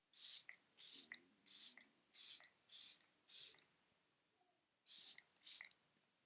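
Makeup setting spray is misted in eight quick, close bursts, most in an even rhythm, then a short pause before the last two sprays, with quiet room tone between.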